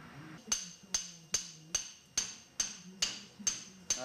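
Hammer blows land on metal during a Subaru Legacy hub swap onto a 1993 Impreza FWD, about nine sharp ringing clanks in a steady rhythm spaced roughly half a second apart, each with a short metallic decay.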